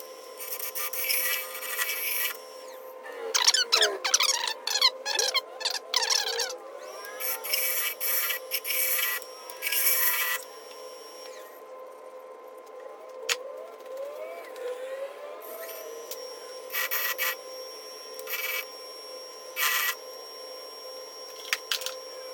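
Turning tools scrape and rub against the inside of a segmented bowl made from scrap wood and pallets on a lathe, with short bursts of rasping over a steady motor hum, close and moderately loud.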